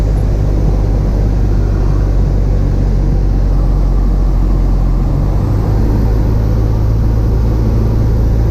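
A small airplane gliding in at about 80 miles an hour with the engine not producing power fills the cabin with a loud, steady rumbling whir that never lets up.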